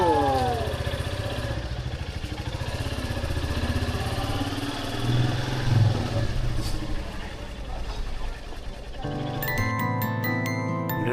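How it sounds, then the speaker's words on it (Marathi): Royal Enfield Bullet motorcycle being ridden, its engine thumping steadily and close for most of the stretch, with wind rush over it and a shift to a different engine note toward the end. "बुलेटचा आवाज म्हणजे रॉयलपणाची ओळख."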